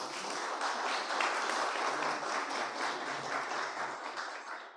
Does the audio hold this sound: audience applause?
yes